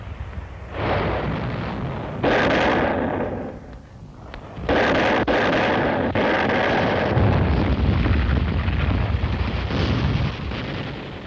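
Artillery fire backed by tanks on a World War II Pacific battlefield at Okinawa comes as heavy, booming blasts and long rumbling roars, loud and close, one after another with a short lull between, in archival combat footage.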